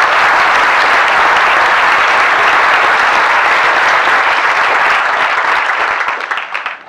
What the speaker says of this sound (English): we will again give him a round of applause